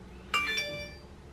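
A mobile phone gives a single bright chime, ringing tones that decay over about half a second, moderately loud and alone in a quiet room.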